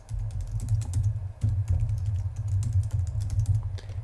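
Rapid, close clacking of a computer keyboard as a name and email address are typed, a steady run of keystrokes with no voices.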